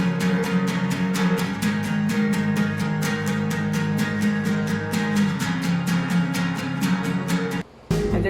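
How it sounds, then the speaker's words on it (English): Acoustic guitars strumming power chords in a steady, even rhythm with a pop-rock band, loud and continuous, pausing for a brief break just before the end. "It's acoustic guitars doing power chords."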